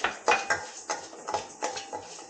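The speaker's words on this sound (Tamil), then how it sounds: "சட்டி வச்சு காய்ஞ்ச உடனே அரிசியை போட்டு லேசாக வறுத்துக்கணும்" Raw rice dry-roasts in a hot pan on low heat, stirred with a spoon that gives sharp, rhythmic scraping clatters about every quarter second, close and fairly loud.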